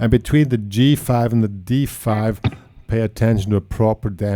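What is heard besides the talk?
No everyday noise stands out behind the speech.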